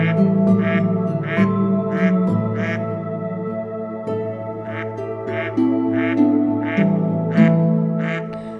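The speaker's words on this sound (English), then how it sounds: "The male's gleaming green head, grey flanks, and black tail curl make it the most easily identified duck." A mallard duck quacks in a regular series of about a dozen short, nasal calls, close and clear over a bed of sustained background music.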